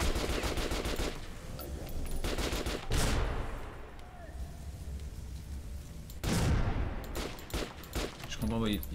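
Rapid automatic gunfire from a weapon in Metro Last Light Redux, loud sustained bursts chattering in quick succession with short pauses between volleys, game ambience filling the gaps.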